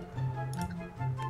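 Computer mouse clicking during a Minecraft lucky-block hunger games match: a few quick, light ticks sit over a steady low electronic hum, close and fairly quiet.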